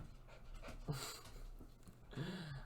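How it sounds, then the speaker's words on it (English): Dogs panting and restless, with quick soft breaths and a couple of brief whimpering or yelping sounds, faint and close. "My dogs are bugging out."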